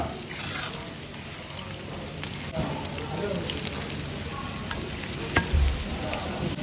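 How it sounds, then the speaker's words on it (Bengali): Padma hilsa fish frying in a pan, a soft continuous sizzle with faint clinks and a couple of small spatters, close and fairly quiet. "দেখুন ইলিশ ভাজা উঠছে ইলিশ ভাজা"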